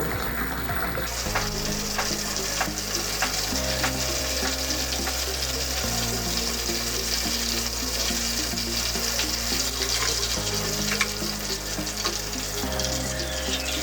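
Golden chicken fingers crackle steadily in hot oil as they are lifted out, a constant close sizzle running beneath background music.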